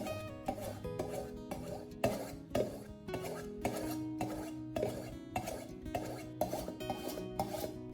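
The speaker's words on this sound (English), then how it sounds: "Now slowly sharpen one side of the knife for about 2 to 3 minutes, using smooth and even movements." A kitchen knife blade drawn repeatedly across a sharpening stone, giving steady rasping strokes in an even rhythm, about a dozen passes, close and fairly clear with faint tonal ringing underneath.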